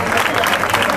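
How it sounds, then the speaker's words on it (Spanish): A burst of applause from a crowd at the opening of a ham competition in Estepona, dense clapping filling the whole moment. "Un aplauso."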